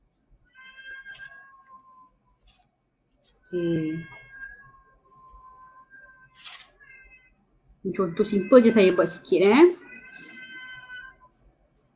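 A cat meows repeatedly, with drawn-out, insistent calls rising into a louder cluster of cries, while someone talks in between.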